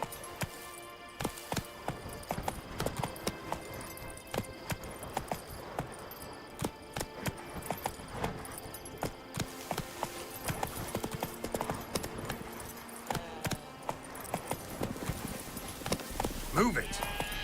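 Hooves clip-clop steadily as a horse is ridden in the video game Witcher 3, with someone talking over the rhythmic footfalls and occasional game sounds.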